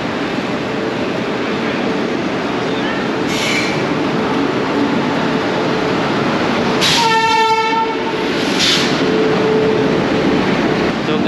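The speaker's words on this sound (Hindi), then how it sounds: "तो गाइस ये राजधानी है" A Rajdhani Express train rumbles loudly and continuously at Patliputra Junction in Patna, with a sustained horn blast sounding partway through and a couple of brief higher squeals.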